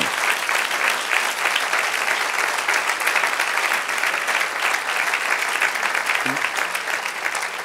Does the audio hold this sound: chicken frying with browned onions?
no